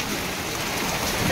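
Hail pelts down together with heavy rain in a dense, loud, unbroken roar of countless hard impacts, with no voices over it.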